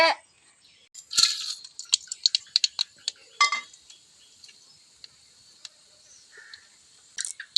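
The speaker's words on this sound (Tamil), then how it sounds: "கடுவை நல்லா பொரிஞ்சு வந்தால் தான் வாசமாக இருக்கும் நல்லா பொரியட்டும் கடுகு" Mustard seeds popping in hot sesame oil for a tomato pickle, a scatter of sharp crackles and small pops, some in quick bursts, fairly close with quiet gaps between.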